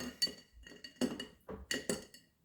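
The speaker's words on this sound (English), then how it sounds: "Stir it around maybe a little bit more." A spoon stirs an Old Fashioned made with rye and maple syrup over a single big block of ice in a glass, giving a series of close, bright clinks and taps in an irregular rhythm with no talking.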